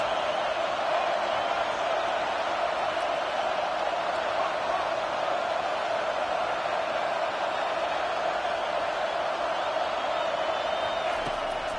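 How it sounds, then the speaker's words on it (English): A stadium crowd roars loudly in the NCAA 25 college football video game during a third-down defensive stand, a dense, continuous wash of noise that holds steady throughout. "this crowd will blow out a vocal cord to help this defense"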